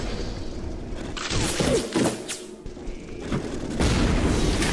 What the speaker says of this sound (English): There's an RPG trying to shoot right through that tiny little hole